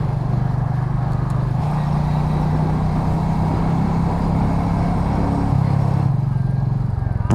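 A Royal Enfield Meteor 350 motorcycle being ridden, its engine giving a steady, loud low rumble close by for the whole stretch with no talking over it.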